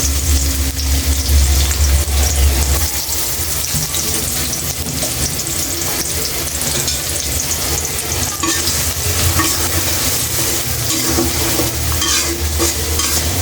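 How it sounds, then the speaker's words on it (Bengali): Onions frying steadily in plenty of oil for biryani beresta, a loud continuous sizzle with occasional stirring, close and unbroken throughout, no voices. "এর মধ্যে আমি 1 কাপ পেঁয়াজ বেরেস্তা করে নেব।"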